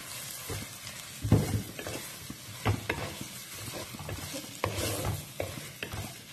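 Cleaned prawns added to a frying pan with onion and stirred, close clattering spoon scrapes and thumps in irregular bursts over a steady sizzle.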